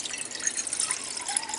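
Room temperature water pours into a camping cookset pot in a steady, faint trickle that splashes and rises slightly in pitch as the pot fills, with no talking.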